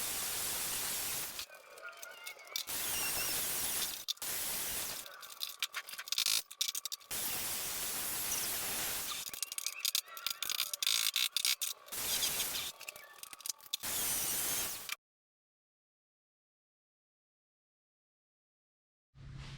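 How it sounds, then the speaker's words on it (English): An angle grinder cuts off parts in the engine bay of a BMW E21 barn find, in loud sustained bursts of high-pitched grinding broken by short pauses, then silence near the end. "I'm just gonna grab a grinder, cut them off."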